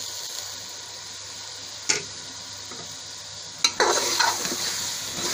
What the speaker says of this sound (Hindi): इस मसाले के साथ मैंने आलूओं को थोड़ी देर भून लूंगी